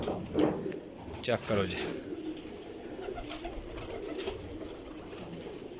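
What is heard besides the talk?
pigeons cooing, breeder's pair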